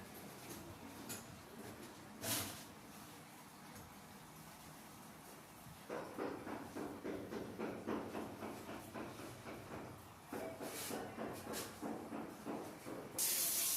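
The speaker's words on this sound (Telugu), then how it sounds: "టాయిలెట్ అయితే ప్రెజర్ వాటర్ ఫుల్ బాగా వస్తూ ఉంది." Pressurised water hisses from a toilet health faucet, a soft spray that turns into a louder, steady gushing rush partway through, with brief pauses between bursts.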